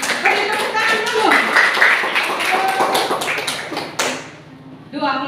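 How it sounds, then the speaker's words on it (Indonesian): Students in a classroom clap together, a loud burst of many hands with voices mixed in over it, stopping abruptly before a voice speaks. "Beri tepuk tangan dulu"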